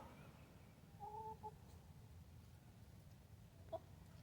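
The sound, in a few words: old rooster clucking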